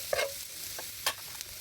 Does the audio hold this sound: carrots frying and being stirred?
yes